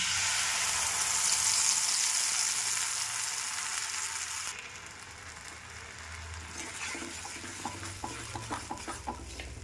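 Food sizzles in hot oil in a home kitchen, a loud, dense frying hiss for the first few seconds that settles into a softer crackle with scattered pops and light clicks.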